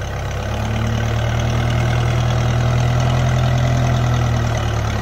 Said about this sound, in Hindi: टू व्हील में देखो गिल्ले में कैसा परफॉर्मेंस है ट्रैक्टर का